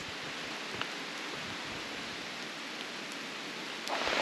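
Steady rain pours down around a walker sheltering partway through a long hike across France, a dense, even hiss that swells louder near the end.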